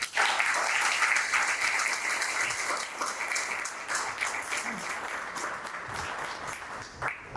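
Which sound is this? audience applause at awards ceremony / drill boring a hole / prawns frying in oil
audience applause at awards ceremony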